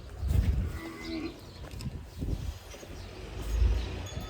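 A cow in heat on a farm moos loudly three times, low drawn-out calls near the microphone with quieter farmyard sounds between them.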